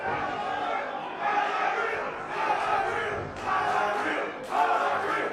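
A wrestling show crowd on their feet, loud sustained roaring and chanting in waves that swell and ebb, filling the hall.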